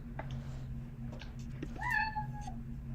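A cat lets out a single clear meow near the end, rising and then falling, over a steady low hum in an indoor room.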